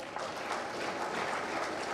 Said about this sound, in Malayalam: അതിനൊരു കയ്യടി